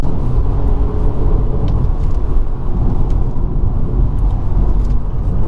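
Volkswagen Golf GTI Mk5, 14 years old, with DSG automatic gearbox, running with a steady loud low engine rumble throughout and no clearly audible break marking a gear change.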